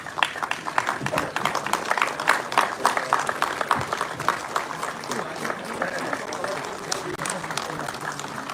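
Light, scattered applause from an audience at a Hindi-language gathering, thin and uneven claps sustained under a murmur of voices for several seconds.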